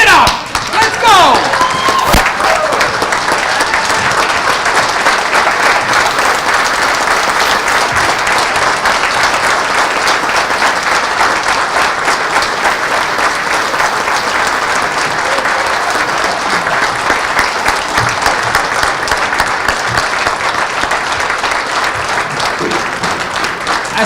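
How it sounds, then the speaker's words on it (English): Loud, sustained applause from an audience on its feet at a business awards ceremony honoring the winners, a dense wash of clapping filling the room for the full stretch without letting up. "give a huge round of applause for all the winners"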